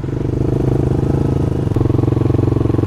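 Kawasaki Ninja 300 and Yamaha YZF-R15 sport bikes racing, their engines producing a loud, steady, droning roar that holds for the whole stretch with a slight shift in pitch partway through.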